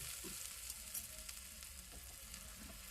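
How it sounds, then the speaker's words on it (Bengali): Onion, whole cumin and a dried red chilli frying in hot oil in a kadai, a faint steady sizzle with a few soft stirring touches. "একটা কড়াইয়ের মধ্যে তেল গরম করে গোটা জিরে একটা শুকনো লঙ্কা একটা পেঁয়াজ কাটা এর মধ্যে দিয়ে লালচে লালচে করে ভেজে নিচ্ছি"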